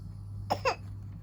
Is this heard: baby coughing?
yes